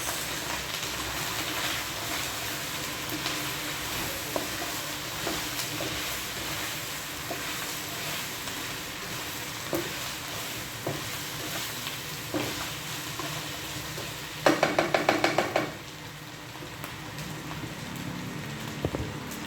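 Beef calderita sizzles in a pan while it is stirred, a constant rain-like frying hiss with occasional scrapes and a burst of louder clatter near the end, close and with no talking.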